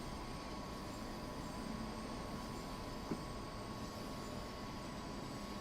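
Train running in Train Sim World 6, a dense, steady rumble and hum of rolling wheels and machinery, continuous and close, with one faint click partway through.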